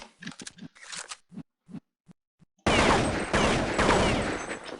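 Counter-Strike 1.6 gunfire on a jailbreak server: a few scattered single shots and short bursts, then a sudden sustained loud barrage of rapid automatic fire lasting a couple of seconds, with no talk over it.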